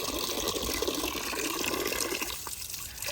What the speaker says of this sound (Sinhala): මෙතනින් වහගත්තම උඩින් වතුර එනවා.